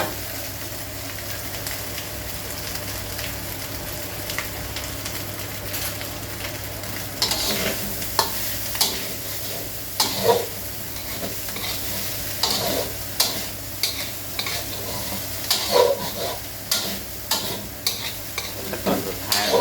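Pork chili paste for Korat-style nam prik moo is stir-fried in a pan, giving a steady sizzle with scraping stirs and clinks, louder in the second half and with no talking.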